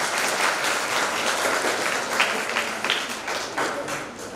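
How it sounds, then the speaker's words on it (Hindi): Audience at a state science seminar applauding steadily, a dense wash of many hands clapping at even loudness with a few sharper individual claps standing out, no speech over it. "सर्वप्रथम आप केवल अपने लिए तालियां बजाइए"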